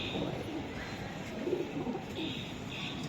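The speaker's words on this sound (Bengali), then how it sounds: "খুবই সুন্দর কবুতর" Budapest pigeons coo steadily in a loft or market setting, a continuous close murmur of soft throaty calls with faint voices talking in the background.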